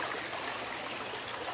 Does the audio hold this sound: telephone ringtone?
no